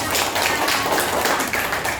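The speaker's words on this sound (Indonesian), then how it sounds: "Oke, tepuk tangan buat teman-teman kalian." Students in a classroom clap for their classmates during a science lesson, a loud, dense burst of close hand claps that carries on steadily for a couple of seconds.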